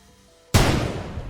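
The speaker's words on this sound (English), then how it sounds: "Shortly after, I hear gunshots." A single sharp video game gunshot bursts in after a quiet moment in a hallway, followed by a loud, rumbling tail that slowly decays.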